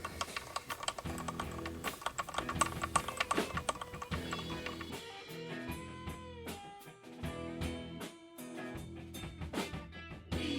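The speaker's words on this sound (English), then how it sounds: "Push it in the hole, bend it over," A guitar string is wound onto the tuner post of a 2005 Fender Thinline Telecaster '69 reissue, with fast dry clicking while the string rings with sustained tones close by.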